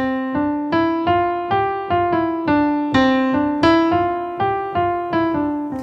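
Piano notes struck one after another in a slightly uneven pulse, each sustaining briefly before the next, played solo and fairly loud.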